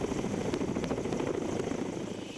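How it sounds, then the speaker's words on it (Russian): A Ka-27 helicopter aboard the cruiser Pyotr Velikiy, heard as a dense continuous rotor and engine roar with steady blade chop, loud and unbroken throughout. "Петр Великий несет два вертолета К-27 разных модификаций – противолодочник и спасатель."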